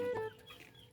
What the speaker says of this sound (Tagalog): Manok bi.